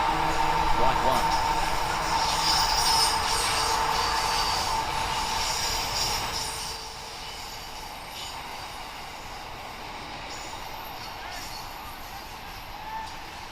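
A train rumbles past near a baseball field, a loud, steady mechanical roar that drops to a quieter hum midway through.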